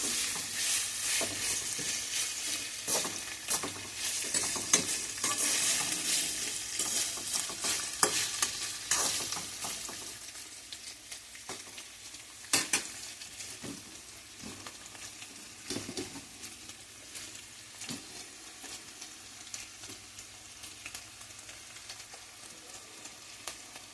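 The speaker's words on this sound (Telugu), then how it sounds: "బాగా వేయించాలండి వీటిని" Ridge gourd pieces for chutney fry and sizzle in a pan while being stirred, with close, steady crackling and frequent scraping strokes, loudest in the first ten seconds and then settling into a softer sizzle. No one speaks.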